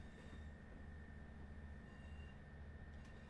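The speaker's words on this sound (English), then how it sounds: "I'll open windows so we can get some loco sounds." Locomotive on the Midland Mainline in the Train Sim World 5 game, heard through open cab windows. A steady, even mechanical rumble and rail roar carries on throughout at low volume with no break.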